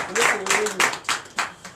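A congregation at a night deliverance and prophecy service in Comè, Benin claps in a few loud, evenly spaced bursts while a preacher's voice carries over them.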